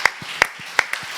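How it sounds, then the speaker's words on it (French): At the 2021 Normandy World Forum for Peace, a few sharp, evenly spaced claps ring out close by in a steady rhythm during a brief burst of audience applause. "Donc on va applaudir."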